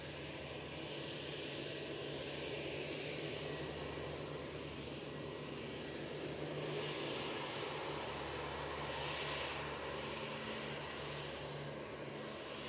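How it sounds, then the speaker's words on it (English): An Antonov 12 propeller aircraft flying over Manchester on a Belfast to Ankara run, its faint, distant engine drone holding steady with a low tonal hum and no voices. "Going over Manchester. We've got the Antonov 12 going from Belfast to Ankara"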